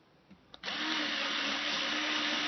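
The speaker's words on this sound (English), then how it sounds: "still drilling holes here" A couple of soft taps, then a power drill starts and whirs steadily at high speed, drilling holes in a Kala 8-string baritone ukulele, close and loud, until the end.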